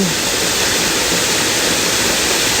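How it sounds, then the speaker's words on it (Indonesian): Curug Gending Asmoro waterfall near Kalongan village roars as a loud, constant, dense rush of falling water that fills the whole clip without a break, with no voices. "sebuah air terjun"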